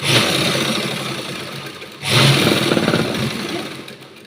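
An electric sewing machine stitches a blouse in two steady bursts of buzzing motor whir, separated by a brief pause near the middle, with no voices over it.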